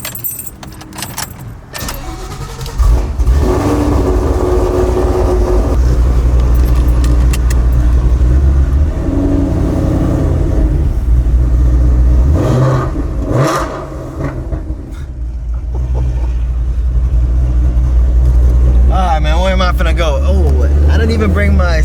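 A Shelby GT500 with an aftermarket exhaust setup gives off a loud, deep rumble that swells with revs. Keys jangle and a person talks over it.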